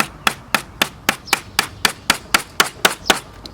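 Wire brads hammered into a wooden honey super frame, about fourteen sharp, evenly spaced hammer taps in a steady quick rhythm, close and clear with no talking.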